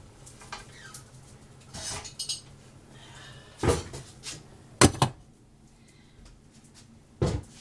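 Metal pot lids and cookware clatter and clank in a home kitchen as someone hunts for a lid while basmati rice cooks; sharp, loud clangs come in irregular bursts, separated by quieter rummaging, with no voices.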